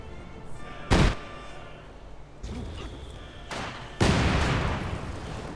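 Company of Heroes 2 battle gunfire comes as two sharp, loud blasts a few seconds apart, each with a rumbling tail, between quieter stretches of distant combat noise.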